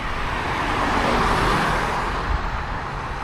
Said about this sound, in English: There's a bit of traffic here